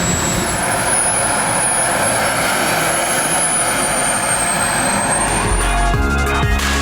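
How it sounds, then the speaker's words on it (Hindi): A large jet aircraft engine runs on the ground close by. It gives a loud, continuous roar with a high whine that holds steady and then dips slightly near the end, with no speech. "इस वक्त जहाज़ स्टार्ट है और यहाँ तक हीट आ रही है उसकी"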